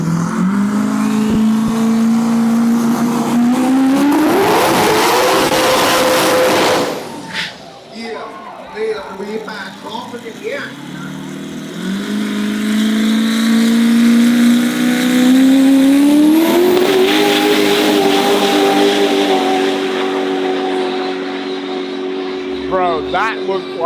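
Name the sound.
LS1 big-turbo 1,500 horsepower dragster engine revving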